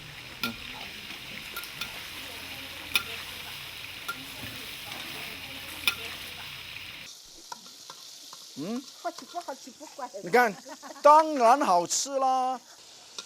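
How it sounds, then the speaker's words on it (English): Wild mushrooms stir frying with thinly sliced pork, chili, garlic and green onion, a soft steady sizzle for several seconds, then someone talks over quieter pan sounds. "Wild mushroom stir fry with thinly sliced of pork with a chili, garlic, and green onion."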